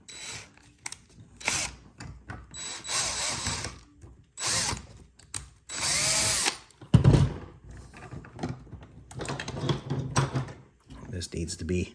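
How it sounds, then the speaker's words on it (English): A power drill runs in short bursts during assembly of a 1/6 scale tracked bulldozer model, with whirring spurts between clicks and handling noises, heard close. "Since I got my drill handy"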